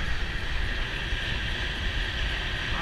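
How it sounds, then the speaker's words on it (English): A train rumbles past in the background outdoors near power line towers, a steady broadband roar that holds level throughout with no talking. "You hear that train in the background too."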